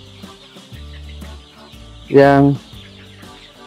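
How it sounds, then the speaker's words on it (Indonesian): Arab chicken chicks about a week old on a farm, peeping and clucking in short repeated calls with one louder burst, close by, as someone talks over them. "Ini antara anak-anak ayam"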